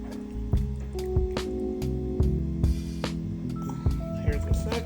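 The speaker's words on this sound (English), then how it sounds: "Here's the hot water first." Hot water poured from a container into a measuring cup for a strawberry poke cake, a steady close trickle with small drips and clinks, while faint speech-like tones and kitchen noises sit underneath.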